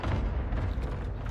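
An airstrike pounds the ground in Call of Duty Warzone on the Rebirth map, a brief dense rumble of overlapping blasts with no distinct peaks, moderately loud and continuous.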